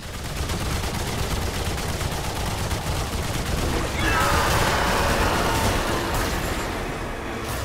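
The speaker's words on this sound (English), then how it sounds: "Burst fire into this thing." Bursts of gunfire from a gun in Remnant 2 rattle in dense, rapid volleys, loud and continuous with crashing impacts layered over busy game noise.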